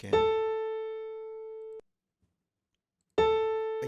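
A single sustained piano note from Scratch programming software rings out and cuts off, followed by silence, then the same note strikes again.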